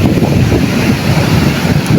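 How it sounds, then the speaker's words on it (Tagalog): Large sea waves off an island coast, heard from a boat being towed; a loud, continuous roar of surf and rushing water with heavy wind buffeting the microphone, and no voices. "Kaso lang malalaki yung alon."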